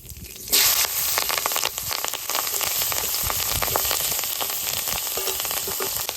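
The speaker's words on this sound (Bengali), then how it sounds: "তেলের উপর দিয়ে দেবো তেজপাতা কালো জিরে অল্প কাঁচা লঙ্কা" Bay leaf, black cumin and green chilli hit hot oil and burst into a loud, steady sizzle that crackles on without pause, close and alone.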